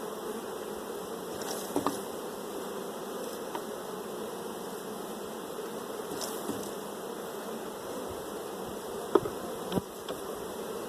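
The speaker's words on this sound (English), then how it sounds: "I'm going to shake the rest of these bees from these blank frames" Bees buzzing steadily close by as they are shaken from hive frames, a dense continuous drone with a few sharp clicks and knocks scattered through it.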